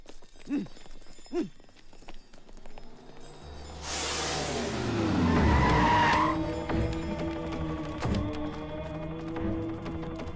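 In a film scene, a car speeds off with a loud tire skid and a rising engine roar. It follows brief vocal sounds and settles into a sustained engine drone with scattered background clatter.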